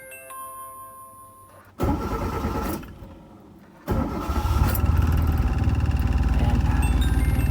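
A Kia Pride with a B1 engine is cranked by the starter in two bursts. After the first, brief attempt, a chime plays, then the engine catches and settles into a loud, steady idle.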